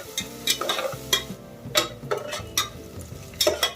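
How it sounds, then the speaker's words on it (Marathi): Chopped onion with slit green chillies being stirred and sautéed in a pan for masala rice, a spatula scraping and clinking in repeated strokes over a soft sizzle, close and fairly loud with no talk. "बारीक चिरलेला कांदा कांदा आपल्याला चांगला परतून घ्यायचा आहे"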